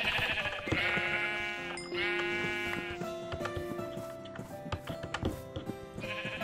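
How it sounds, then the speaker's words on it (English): Sheep bleating in the Minecraft video game, a series of wavering, tonal bleats repeating over a busy background of other game sounds, fairly loud and close, with no talking. "sheep. So kill sheep."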